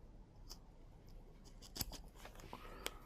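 Small scissors trimming excess off a slingshot catapult rubber band, giving a few quiet close snips and clicks spread over a few seconds, with a sharper cut standing out against a hushed background.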